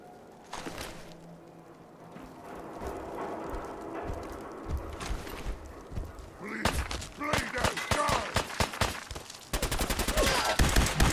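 Gunfire in Fallout 4 comes as scattered shots that build into rapid volleys of sharp bangs, close and loud, with clattering thuds between bursts.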